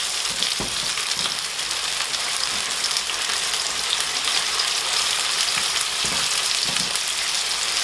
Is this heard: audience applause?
no